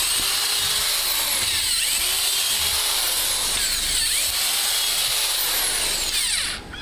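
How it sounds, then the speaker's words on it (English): A power drill bores holes into ATV tires, its motor whining loud and close in repeated sweeping surges as each hole is cut, running almost continuously before cutting off at the end. "at this point I take the drill and drill holes in my nice ATV tires"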